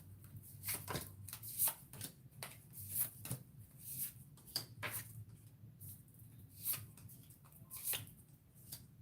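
Tarot cards are shuffled in quick, irregular bursts of soft riffling and slapping, close and quiet, with no voices.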